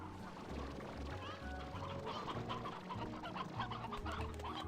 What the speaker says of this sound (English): There are way too many chickens in there.